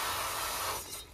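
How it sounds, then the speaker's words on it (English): Cooking oil spray hisses steadily into a steamer prepared for momo dumplings, one continuous burst that fades out near the end. "I will spray oil in here."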